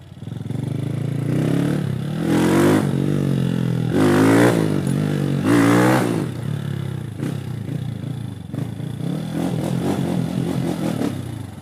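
A Honda Titan 160 motorcycle fitted with an 8mm kit and high-flow fuel injector revs up in several sharp, loud bursts, then settles into a rough, clattering idle close by.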